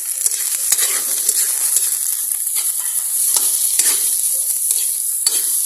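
Onions sautéing in a pan give a steady bright sizzle, close and continuous, with frequent stirring scrapes and clicks of a utensil.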